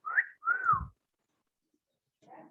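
A person whistles two short tones, the second a rising-falling slide, then silence before a faint third attempt.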